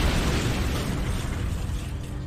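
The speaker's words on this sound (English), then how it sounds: "Secondary explosion in Reactor 1." A loud, rumbling secondary explosion in a reactor roars continuously, a dense wall of low boom and crackle that slowly fades slightly over a couple of seconds.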